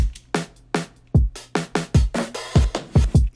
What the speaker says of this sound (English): we added a little drum fill at the end, which sounds like this.